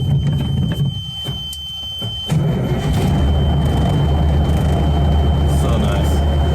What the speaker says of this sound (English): these old Cummins, they start right up